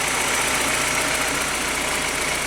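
A Honda Civic sixth-generation engine idling unevenly while under repair, giving a steady, close mechanical hum with a faint knocking texture and no talk over it.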